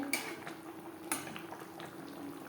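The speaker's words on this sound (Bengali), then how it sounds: "গ্রেভির সাথে পেঁপে আরও তিন চার মিনিট রান্না করব" Papaya simmering in a coconut gravy in a pan, a soft bubbling hiss with a couple of sharper ticks of the pan, quiet and close with no talk.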